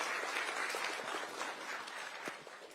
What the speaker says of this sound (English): if you can all stand and just stretch and clap for His Excellency the President